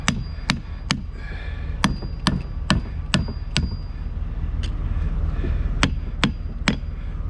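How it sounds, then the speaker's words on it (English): Sharp metallic hammer blows strike a Hyster Fortis 50 forklift steering cylinder part on a workbench, about a dozen loud, ringing hits at an irregular pace with short gaps between. "Hit it around a few times to get it loose, then just pop it right off."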